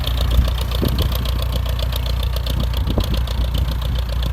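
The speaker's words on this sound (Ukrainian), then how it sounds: "Трактор їде швидше багато." An MTZ-80 tractor engine runs steadily at a loud, constant rumble with a faint knocking rhythm while applying liquid fertilizer in a field, close up and with no talking.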